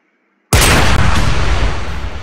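A modded gun fired in the video game Minecraft: after a moment of near silence, one sudden loud close shot bursts out, then its booming echo trails off slowly.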